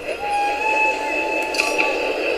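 A video game train rolls along a rail line with a steady tonal hum and whine, a few light clinks partway through, and someone talking quietly over it.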